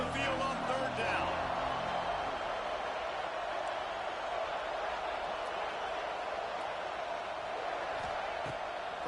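A home crowd at a college football game on third down, a dense roar of cheering that holds steady throughout, with a commentator's voice briefly at the start.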